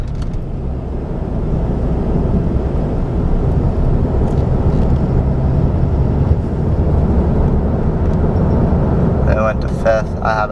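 A 2014 Ram pickup with a Cummins diesel cruises in fifth gear on a back road, a loud steady low engine drone heard from inside the cab, with a few brief clicks near the end.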